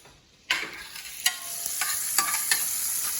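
Pancetta sizzles steadily in a frying pan for carbonara, a constant bright frying hiss that begins abruptly and continues close by, with a few soft stirring clicks and scrapes over it.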